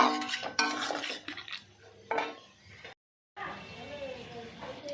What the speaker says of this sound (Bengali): এবার আমি নামিয়ে নিচ্ছি একটি পাত্রে।